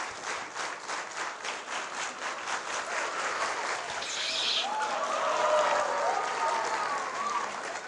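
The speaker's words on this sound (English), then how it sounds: "I would like you to clap, slowly, getting faster and faster" An audience in a science-and-magic show claps in unison, starting slow and speeding up into dense, continuous applause with scattered cheers, loud and close throughout.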